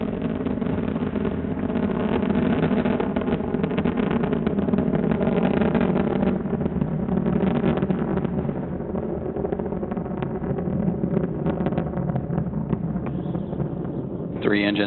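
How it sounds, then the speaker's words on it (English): Space Shuttle Endeavour's engines during launch ascent, a continuous muffled, rumbling roar that stays loud and steady throughout, with a voice talking over it. "Three engines now throttling down as Endeavour passes through the area of maximum dynamic pressure on the vehicle in the lower atmosphere."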